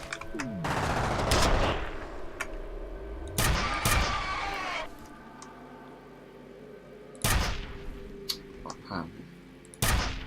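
Gunfire in the video game F.E.A.R. comes as a few loud, sharp bursts with quiet gaps between them. The longer volleys fall early in the clip and single cracks come near the end.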